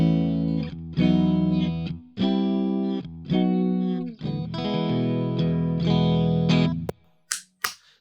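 An Epiphone Les Paul Custom Pro electric guitar from 2014, with both pickups split to single coil in the middle position, plays a run of bright chords through a distorted, chorus-laden tone, ending in a few short muted strums.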